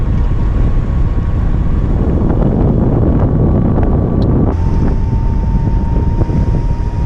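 Constant loud headwind roar buffeting the microphone while riding a Sur Ron electric dirt bike at around 55 mph, a dense steady rush with a faint motor whine beneath and no talking.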